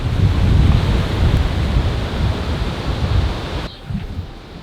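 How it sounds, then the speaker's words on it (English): Strong hurricane wind roars across a sailboat riding at anchor on a river, a loud, continuous buffeting rush with gusty swells, easing slightly in the final second. "The wind."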